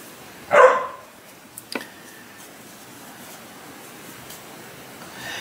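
A dog in a house lets out one loud bark near the start, followed by a couple of small knocks or scratches, then quiet room tone with faint rustling.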